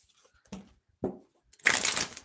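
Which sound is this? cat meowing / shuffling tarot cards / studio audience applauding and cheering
shuffling tarot cards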